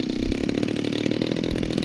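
A DLE111 gasoline engine on a Black Horse FW190A model plane, well tuned, runs loud and close with a steady, rapid buzzing drone throughout.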